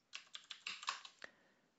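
A short, quick burst of about eight keystrokes clicks on a computer keyboard as a git command is typed. The clicks are close, crisp and quiet, followed by a brief pause.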